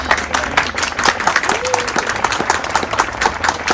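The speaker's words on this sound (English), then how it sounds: "Everybody, applause, applause, applause" An audience applauds after a guest is seated for a show, with steady clapping running through and mixed with crowd noise and some voices.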